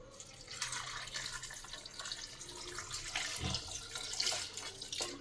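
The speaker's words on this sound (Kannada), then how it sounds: "ನೀರು ಹಾಕ್ತಾಯಿದ್ದೀನಿ." Water poured steadily into a cooking pot of drumsticks and turmeric for rasam, making a continuous close splashing rush that runs for several seconds with no talking.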